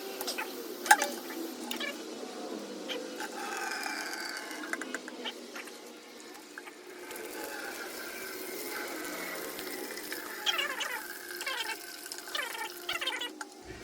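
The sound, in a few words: coolant draining out of a 1996 CR250 motorcycle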